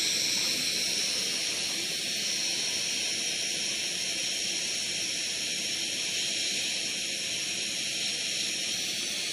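A Primus ETA Lite gas stove burns at full tilt with a steady, loud roaring hiss that holds constant throughout without a break.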